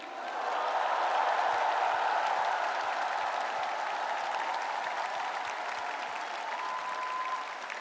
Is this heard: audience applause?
yes